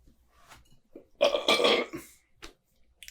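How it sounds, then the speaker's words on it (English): A person burps loudly and close while drinking a pilsner beer, one long drawn-out belch in the middle with a few small throat sounds before and after. "Man, this thing's giving me the burps."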